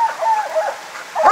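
Coonhounds bay on a night coon hunt in the woods, short tonal cries that carry with a distant, open feel.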